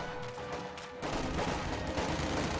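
Mortar rounds and machine-gun bursts crackle across a real-time strategy battlefield, a dense continuous barrage that thickens sharply after the first second and stays loud without letup.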